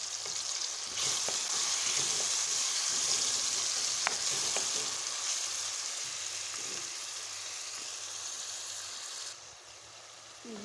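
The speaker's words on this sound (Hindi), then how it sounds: "ये देखिए मसाला हमने भून लिया।" Red chilli, turmeric, salt and dried coriander spices sizzle steadily in a pan while being fried for a minced meat and chana dal dish, with a few scrapes of stirring over a continuous hiss.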